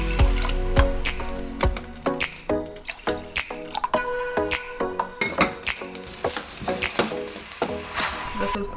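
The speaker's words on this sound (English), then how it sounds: "This is bubbling and boiling away now" Buckwheat porridge bubbles and boils in a pot on the stove, giving a steady run of close, soft pops and wet blips with a little background clinking.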